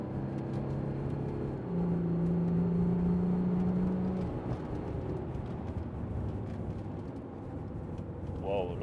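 An Audi Q7 with a rough-running engine in limp mode is pushed to full throttle, a sustained engine drone with a brief rising whine, mixed with background noise and some talk.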